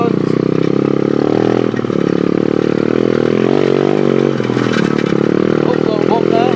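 A pit bike engine runs steadily as the bike is ridden, a loud continuous drone with slight shifts in pitch and some clatter over rough ground.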